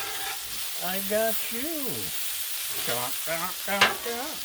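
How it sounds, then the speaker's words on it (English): Spinach and tomatoes frying on a Blackstone griddle, a steady loud sizzle underneath scraping stirs, with people talking over it. "So look at the spinach cooking down."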